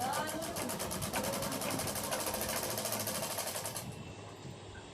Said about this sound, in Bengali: তোমরা দেখো আমি খুব সহজে কাপড়টা চারিদিকে আগে সেলাইটা করে নেব।